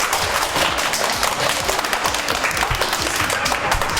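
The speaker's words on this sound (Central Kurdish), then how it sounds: "یەک چەپڵەی بەهێزیان بۆ لێ بەر" A lively audience at an educational community show claps loudly and continuously, dense applause close up that carries on without pause for the whole span.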